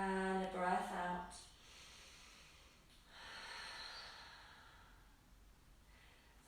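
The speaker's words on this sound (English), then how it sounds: "One final breath in and a breath out." A deep breath in and out to close a seated yoga practice, the inhale and long exhale soft and near, with a faint voice at the start.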